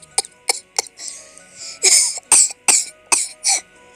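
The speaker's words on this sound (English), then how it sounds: "I just cough." A person coughs repeatedly while playing a snowman simulator game, a series of about ten sharp, close bursts, the later ones longer and harsher, with no speech around them.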